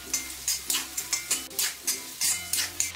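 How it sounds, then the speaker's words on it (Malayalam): Sliced onions sautéing in a pan on high flame for a Kerala chicken varattu, with rhythmic scraping stirs and sizzling bursts repeating about every half second, close and clear. "ഇനി ഇതിലേക്ക് നമ്മൾ ഈ അരിഞ്ഞ് വെച്ചിരിക്കുന്ന സവാള ഇട്ട് വഴറ്റി കൊടുക്കാം"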